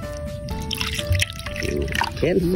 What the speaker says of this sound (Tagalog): Maglagay tayo suka.